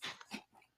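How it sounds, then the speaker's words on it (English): A dog gives a short, faint huff or cough-like bark, two quick bursts close together in under a second against a quiet background. "That is my dog."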